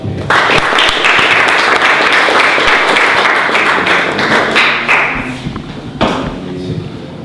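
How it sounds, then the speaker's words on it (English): A tech conference audience gives a round of applause for a speaker named Alexander Rössler before a talk on Machinekit machine control: dense, loud clapping sustained for about five seconds, then thinning out into scattered claps. "Let's have a round of applause for Alexander."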